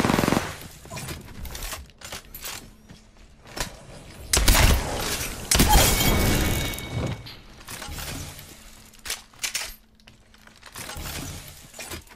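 Video game gunfire during a shield-recharging shooter fight, heard as bursts of rapid shots and sharp cracks in clusters, loudest midway, with quieter gaps and glassy clinks between volleys.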